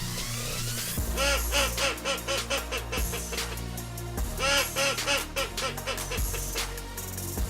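A duck call, the DC-200 Classic Commander, blown in rapid, high-pitched quacking bursts imitates a teal hen, faster and higher than a mallard hen, repeated in quick series over a steady low background.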